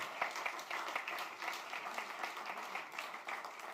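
Audience applause at the Universités Breizhmer 2023 event as a prize winner is honored, continuous clapping from a room of people with distinct individual claps pattering unevenly, moderately close and steady.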